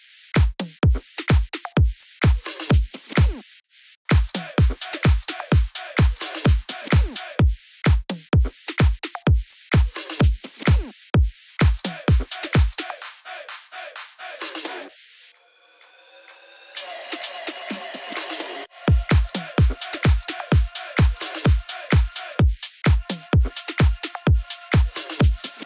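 A bass house drum loop programmed in FL Studio 20 thumps with punchy, evenly spaced kicks and crisp hits, pausing for a short filtered break before the beat returns, loud with no voices.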